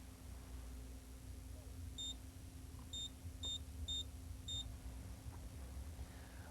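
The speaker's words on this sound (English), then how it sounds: "Whenever a zone is violated, the operating panel will sound." Five short, high electronic beeps from an ADT Safewatch alarm keypad during a walk test sound at uneven intervals over a steady low hum as zones are triggered.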